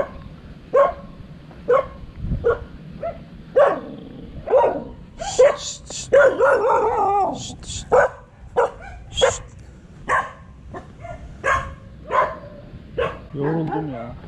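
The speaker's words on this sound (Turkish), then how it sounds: "Köpekli yoldan dönüş yoluna geçelim abi. Yine havlayacaklar." A pack of many dogs barks repeatedly along a village road, loud sharp barks in quick irregular bursts with some yips and whimpers mixed in.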